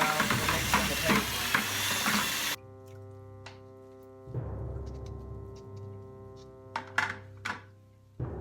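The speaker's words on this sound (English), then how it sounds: "I use it for mixing the clay, and I'm sure it'll do a fine job for mixing the paper." A drill fitted with a mixing bit from Lowe's, usually used for clay, churns wet paper mache pulp, giving a loud grinding whir for a few seconds that stops abruptly and returns later, with clattering knocks between runs.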